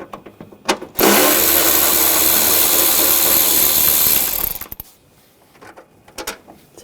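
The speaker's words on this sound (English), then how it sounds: "Using a 8mm socket, we're going to take these two bolts out." A ratchet fitted with an 8mm socket works the bolts on a 2004-2008 Ford F-150 during coolant reservoir replacement, making one loud, dense burst of rapid mechanical clicking for about three and a half seconds, followed by faint scattered taps.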